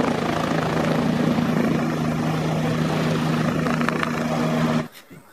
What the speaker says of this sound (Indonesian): Wah wah wah, di sini ada helikopter.